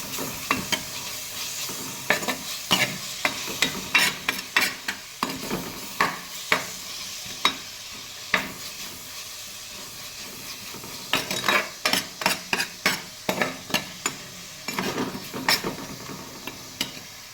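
A spoon stirs and scrapes ginger garlic paste frying in a pan, giving repeated sharp clinks against the metal over a soft, steady sizzle, with a short lull midway before a quick burst of stirring.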